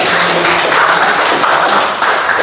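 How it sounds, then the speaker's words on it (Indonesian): Students at a junior high school in Balige applaud their teacher after a health talk, a loud, dense, steady clapping that fills the room without a break. "Baik, tepuk tangan dulu buat Ibu."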